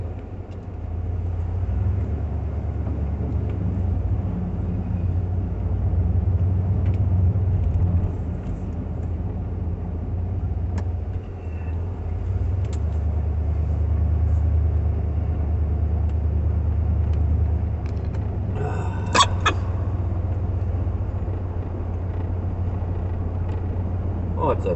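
Steady low engine and road rumble from a vehicle ride at night in winter, heard from a rider wearing a helmet with a strapped visor; the drone holds throughout with a brief clatter near the end.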